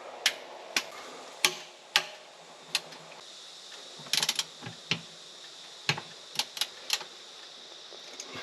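A torque wrench tightening bolts to 20 newton metres on a 2015-or-later Toyota Hilux or Prado automatic transmission, producing about a dozen sharp, close clicks at irregular intervals, some in quick clusters, over a quiet background.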